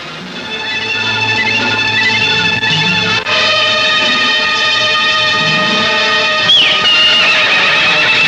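A horse neighs loudly and close in an outdoor action-film scene, one long whinny with shifting pitch followed by a second rising call, with faint hoof clip-clop underneath and no speech.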